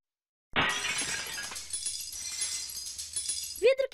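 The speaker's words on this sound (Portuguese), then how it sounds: "Vidro quebrando." Glass breaking in one sharp crash followed by a few seconds of tinkling, scattering shards, loud and close, with a brief voice starting at the end.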